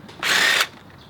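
Power drill or impact driver spinning out a bolt that holds the plastic body panels on a motorcycle, one short burst of roughly half a second, close and fairly loud.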